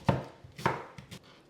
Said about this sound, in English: I'm going to go ahead and chop this onion up